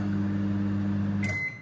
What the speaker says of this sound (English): then it just takes a second, and then the microwave goes on.